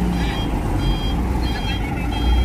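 A truck carrying a dozer reverses onto a ferry at Merak port, its steady reversing beeper sounding over a loud diesel rumble, with voices in the background.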